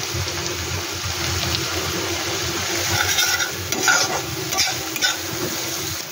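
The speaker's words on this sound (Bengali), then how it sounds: "পেঁয়াজটাকে হালকা লাল লাল করে ভেজে নেবো" Onions frying in a pan with turmeric, sizzling steadily up close with soft stirring scrapes and a few sharper crackles toward the end.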